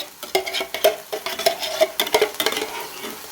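Okra with meat being stirred in a pan, a spoon scraping and clinking against the pot in a quick irregular rhythm over a light sizzle, close and fairly loud.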